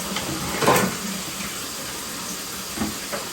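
Water from a blocked toilet pipe drains away after clearing, a steady rushing, gurgling flow with a couple of louder surges, heard close and continuous with no talking.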